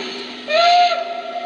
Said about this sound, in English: it did make a whistle sound